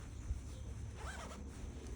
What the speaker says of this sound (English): It's got a zip inside as well.